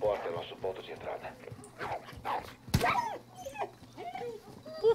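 A dog whimpers and yips in short, faint bursts during a Call of Duty Modern Warfare mission, mixed under frequent soldier dialogue and a sharp impact sound midway.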